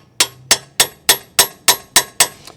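Eight evenly spaced sharp hammer blows ring out on a puller pressed against a car's ball joint with a broken bolt, loud metallic strikes about three per second, each decaying quickly.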